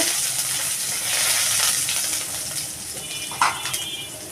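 Chopped onion and cumin seeds fry in hot oil in a pan, giving a steady loud sizzle and crackle throughout, with a brief stirring clatter near the end.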